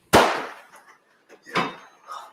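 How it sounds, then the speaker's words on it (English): A single sharp gunshot cracks up close and echoes, followed a second later by a fainter second bang and a softer trailing report. "That's gunfire."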